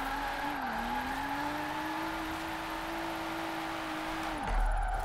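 A car in a racing sim drifting as the e-brake is pulled, a steady engine drone with a sliding tone that dips and then holds before abruptly cutting out into a brief thump.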